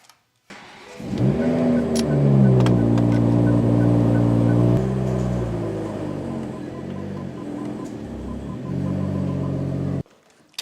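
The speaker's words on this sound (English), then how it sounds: "I'm just going to back up my car and just put a wood block underneath this wheel really low." A wide-bodied A90 Supra is backed up slowly onto a wood block, its engine rumbling loud and close with a rising rev, then settling to a steady idle before cutting off.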